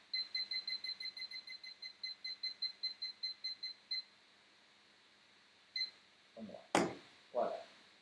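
A timer gives a rapid series of sharp, bright beeps while being set, followed by one more beep, and then a few soft knocks and clatters nearby.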